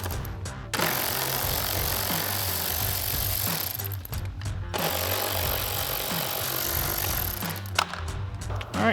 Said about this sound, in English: so we're going to take our 6 screws out